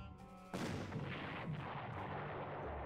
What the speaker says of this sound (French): Oui, un coup d'artillerie ici. Un coup d'artillerie ici.